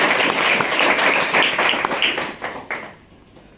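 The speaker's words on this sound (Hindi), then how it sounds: "तो इनके लिए भी जोरदार ताली होनी चाहिए।" A seated audience at a direct selling event claps loudly, dense applause that thins into scattered claps and fades out after about three seconds.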